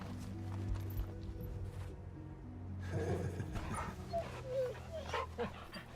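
A dog in the video game Final Fantasy 16 gives soft barks, whimpers and yips while being petted, close by over a low ambient background hum.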